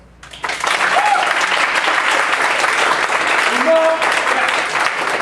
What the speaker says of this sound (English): Y'all round of applause.